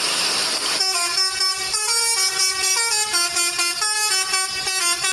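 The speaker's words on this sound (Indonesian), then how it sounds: "ternyata ada bus telolet" A toy bus sounds its telolet horn, a loud bright melodic tune of rapidly alternating musical tones played repeatedly and alone, after a short burst of noise at the start.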